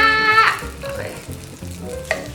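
Bread frying in a buttered pan gives a steady close sizzle and crackle, with soft clinks and scrapes of a utensil moving through it.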